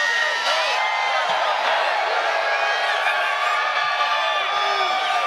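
Brooklyn campaign rally crowd for Bernie Sanders roaring steadily with cheers, whoops and high shouts, a loud continuous wall of voices with scattered whistles.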